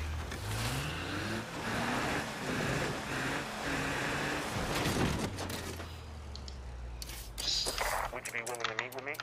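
A car drives in the video game State of Decay 2, its low engine drone steady and close throughout, with voices talking over it.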